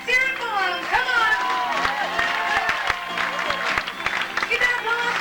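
A cruise ship audience on Sovereign of the Seas in 1989 applauds and cheers the bar waiters, with ragged clapping and crowd noise going on under a loud announcer's voice.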